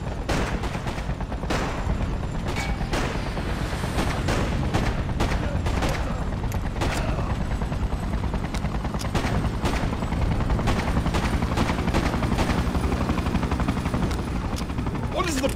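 Dense, continuous gunfire from soldiers in Freedom Fighters' Manhattan invasion. Shots and bursts hammer steadily the whole time, with shouting voices mixed in.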